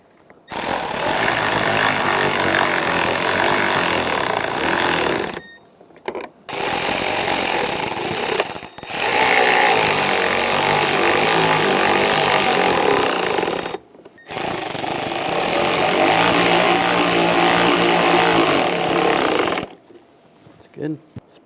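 A power driver runs loud in long, steady bursts separated by short pauses while screws go into a headlight bracket on a 2006-2009 Mercedes-Benz E350 during a headlight replacement.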